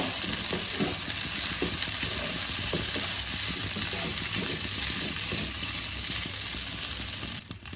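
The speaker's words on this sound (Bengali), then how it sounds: "ভালো করে মিশিয়ে নেব।" Poha sizzles and crackles steadily in a pan as it is stirred and mixed, with soft scraping strokes running throughout at close range and no voices.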